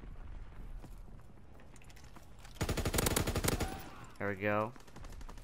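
A machine gun in Call of Duty WW2 fires a loud sustained burst of rapid shots, then a brief mechanical clatter, with a voice speaking briefly beforehand.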